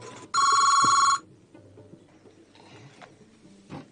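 An office telephone rings once in a short, loud electronic trill lasting under a second, followed by quiet room noise and faint movement.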